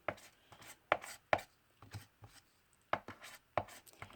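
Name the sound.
palette knife mixing Color Sparks paint powder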